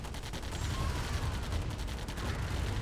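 Minigunners hammer away at a line of turrets in a real-time strategy game, producing a dense, continuous rattle of rapid automatic fire layered with mechanical clanking, steady and moderately loud throughout.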